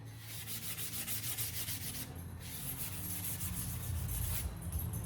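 Steel wool rubs over metal with light pressure, a steady scratchy sound with a quick back-and-forth rhythm, close and fairly quiet, pausing briefly before continuing more heavily.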